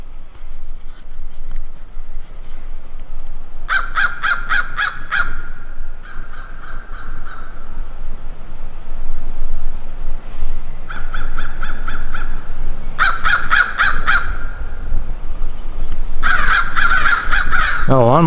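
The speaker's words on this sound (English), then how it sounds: "Here's some birds up there." Crows caw in repeated bursts of harsh, rapid calls at Harrods Creek Park in Prospect, Kentucky, moderately close above a steady outdoor rumble, with pauses between the groups of calls.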